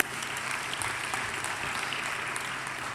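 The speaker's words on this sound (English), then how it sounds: "We'd like to give a round of applause, ladies and gentlemen." Steady applause from a graduation ceremony audience, dense even clapping filling the hall at moderate level throughout with no break.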